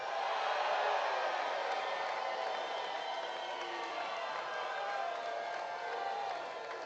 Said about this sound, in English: you hear the crowd behind us. They are going absolutely crazy